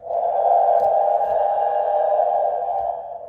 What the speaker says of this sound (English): Classic T-Rex growl.